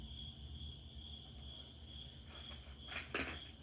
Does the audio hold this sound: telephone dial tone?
no